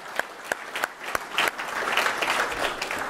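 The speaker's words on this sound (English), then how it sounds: "I want a round of applause for all the volunteers and organizers of Blue Team Village" A conference crowd honoring Blue Team Village volunteers and organizers breaks into applause, sharp single claps at first that swell into steady, dense clapping.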